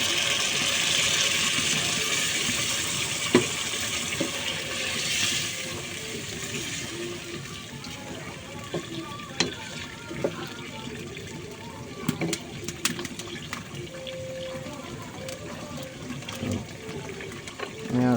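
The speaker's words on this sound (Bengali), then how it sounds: "এই যে গরম পানি দেওয়া হচ্ছে" Hot water is poured into chicken cooking in oil in a pan, giving a rushing, gushing pour that eases into softer bubbling while a person talks over it.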